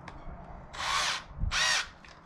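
A power drill drives screws into a DIY paddle clip for a 2020 Hobie Pro Angler 12 360 kayak, whirring in two short bursts separated by a brief pause, close and fairly loud, with no speech.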